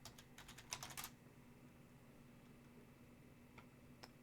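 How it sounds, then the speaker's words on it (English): Computer keyboard typing during a livestream hangout, a quick burst of close, crisp keystrokes at the start, then quiet hum with a few isolated key taps later. "Hello, I'm typing."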